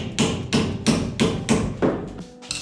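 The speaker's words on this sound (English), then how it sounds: "gently hit with the hammer" Hammer gently tapping the end of a loosened bolt while removing the axle of a 1971 Opel Manta A: six evenly spaced, close metallic knocks about a third of a second apart, with no talk.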